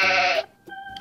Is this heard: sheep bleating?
yes